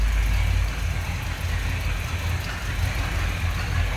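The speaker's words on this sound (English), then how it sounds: "See, that's a smooth running engine." A 1964 Ford Galaxie 500 two-door hardtop with a 390 V8 and 4-speed idles smoothly, a steady, even low rumble heard up close on its own.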